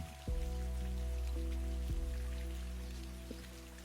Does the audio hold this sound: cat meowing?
no